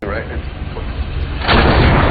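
A heavy, booming gunshot blast from a film scene erupts near the end, loud and full-bodied after a stretch of low rumbling noise.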